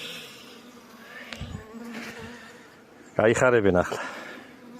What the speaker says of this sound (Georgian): გამოჩნდა უკვე ფუტკარი